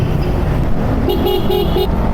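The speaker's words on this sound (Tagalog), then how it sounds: "Grabe traffic yan mga idol" Heavy bumper-to-bumper traffic on EDSA, with a dense, constant engine and road rumble and a few short car horn toots clustered near the end.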